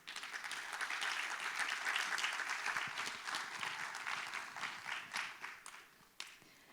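Sustained audience applause at an opening conference of a forum, steady dense clapping from a large crowd that thins and tapers toward the end with a few last claps.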